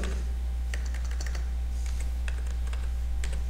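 Typing on a computer keyboard while entering a command, a quick run of crisp key taps in short bursts with brief pauses, close and clear over a steady low electrical hum, no voices.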